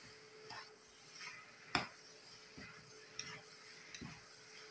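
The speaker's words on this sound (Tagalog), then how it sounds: "lalagay tayo ng konting oyster sauce. Halo lang natin siya guys." Pork sisig being stirred with oyster sauce in a pan, with faint scraping and occasional utensil clicks over a low, steady sizzle.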